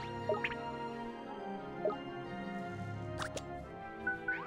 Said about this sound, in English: let's go with water bomb, why not?